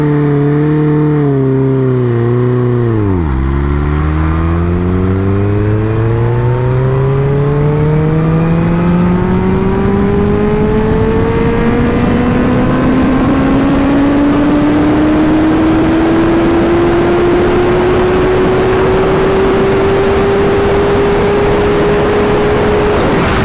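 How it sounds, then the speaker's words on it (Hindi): Heavy motorcycle accelerating from standstill to 300 km/h in a single gear, one long continuous pull with the engine note dipping then climbing steadily higher, loud and close throughout, no talking. "Okay, now we will do 0 to 300 in one gear."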